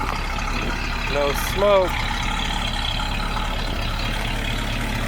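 A 1957 Oldsmobile Rocket 88 engine idles with a steady low rumble throughout, heard close with a brief spoken remark over it.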